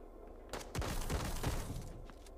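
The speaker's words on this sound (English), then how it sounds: "They're shooting. They're shooting." Bursts of gunfire from the mobile shooter game Bullet Echo, a loud rattling volley that swells after the first half-second and holds steady before easing off, with no talking over it.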